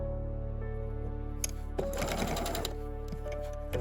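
A sewing machine runs a quick stitch to hold a folded fabric tab, a steady close mechanical whir with a denser rattling burst partway through.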